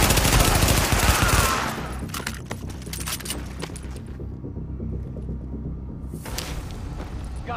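Enemy gunfire in The Division, a dense rapid burst of loud automatic shots at the start that settles into a steady crackle of distant firing and rumbling combat ambience.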